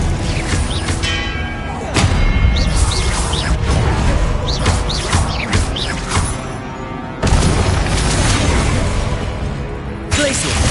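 Confringo blasting spell explosions in Hogwarts Legacy on PS5, sharp bursts and crashes at irregular intervals amid busy spell combat, with a voice calling out over the loud effects.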